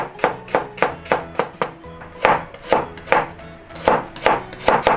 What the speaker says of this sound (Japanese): 人参硬いからね、このまま丸のまま切っちゃうと割と危ないんですよね。